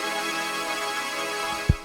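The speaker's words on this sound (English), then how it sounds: "It's a harmor" A Harmor synthesizer holds a bright, sustained tone rich in overtones, steady and fairly loud, with a short thump near the end.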